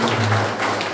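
A church congregation claps hands during a service, a dense, loud, continuous patter of many hands that lasts the whole moment.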